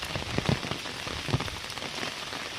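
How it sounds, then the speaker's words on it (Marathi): Heavy rain falling in a forest, a dense steady patter of drops on nearby surfaces with a few louder close hits. "पावसातनं भिजत आलं."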